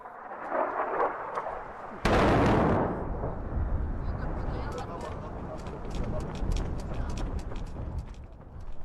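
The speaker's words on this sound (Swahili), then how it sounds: "mara kukatokea milipuko mingine miwili mikubwa" Air strikes near a village set off a sudden heavy blast that rolls into a long, rumbling roar, with people talking over the sound.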